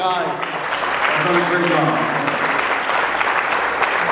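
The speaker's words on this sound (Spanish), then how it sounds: "el otro aplauso es para esa preciosa banda" Audience applause for a church worship band at a 75th anniversary celebration plenary session, a dense steady wash of clapping filling the hall throughout, with a voice speaking over it near the start.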